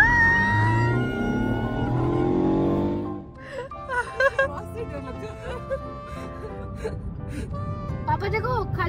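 Mercedes C300 engine revving up as the car accelerates, a rising drone heard from inside the cabin for a few seconds, then a family talking and exclaiming over quieter road noise.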